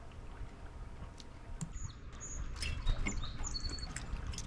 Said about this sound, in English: A pair of Carolina wrens,